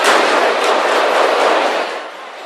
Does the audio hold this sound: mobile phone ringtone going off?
no